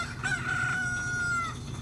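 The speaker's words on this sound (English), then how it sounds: "Cock-a-doodle-doo." Rooster crowing in The Legend of Zelda: Ocarina of Time: one drawn-out cock-a-doodle-doo call, moderately loud and clear, heard alone over a soft game background.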